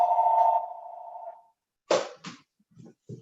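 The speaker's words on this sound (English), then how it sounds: "Oh, wouldn't you know it, that's my phone." A mobile phone ringtone during a county council meeting, with a steady electronic tone that holds about a second and a half, then stops, followed by a few short clicks and thumps.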